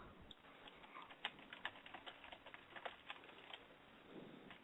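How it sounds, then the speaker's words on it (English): Steady typing on a computer keyboard, quick irregular clicks at close range, fairly quiet, with no voices over it. "Typing away."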